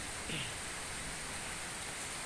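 Rain falls in a steady, dense hiss during a rainy spell, an even wash of patter that stays constant throughout with no clear voices.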